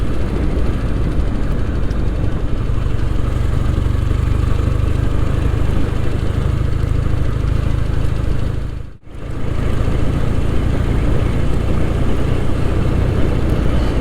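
A Royal Enfield Interceptor motorcycle engine pulls steadily in top gear along narrow back roads, a loud, continuous low drone with wind rush and one brief dip near the end.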